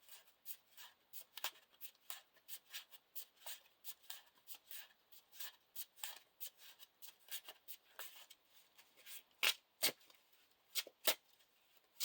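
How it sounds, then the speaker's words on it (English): Playing cards being shuffled for a Lord of the Rings living card game encounter deck, a long run of quick crisp riffling and snapping bursts with several sharper riffs near the end, close and alone. "shuffle the Dumbledore Orcs encounter set into the encounter deck"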